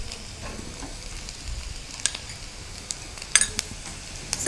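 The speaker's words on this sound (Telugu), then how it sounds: "ఇందులో మనం అల్లం వెల్లుల్లి పేస్ట్ వేసుకుందాం." Ginger garlic paste hits a hot kadai for a mushroom tomato curry and sizzles steadily, with a spoon scraping and several sharp clinks of metal against the pan.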